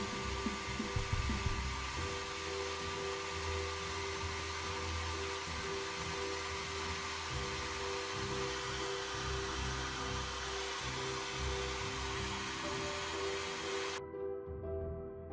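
A heat tool blows on VMS enamel binder for weathering metal model tracks, giving a steady whooshing, whirring airflow held for about fourteen seconds before cutting off abruptly.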